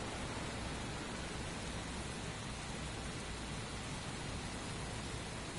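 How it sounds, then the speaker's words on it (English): Steady, dense hiss of heavy rain pouring without a break in a video game, an even wash of noise with no other sounds standing out. "Raining heavily and there's a high voltage warning signs."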